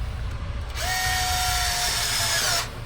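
Power drill driving a screw into an RV bathroom faucet fitting, a brief close whine of the motor running steadily for about two seconds, starting and stopping abruptly over faint background noise.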